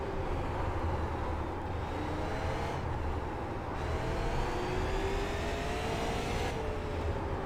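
Steady engine drone of a race car in iRacing at Lanier, with a faint rising whine, continuous and moderately loud, with no voices.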